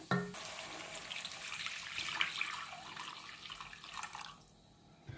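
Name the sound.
water poured over chicken in a pot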